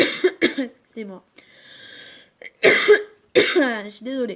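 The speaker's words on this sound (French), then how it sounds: "c'est la toux grasse qui me fait tousser" Wet, chesty coughing from a woman recovering from tonsillitis, several harsh bursts close to the mic interspersed with her brief apologetic speech and a breathy pause.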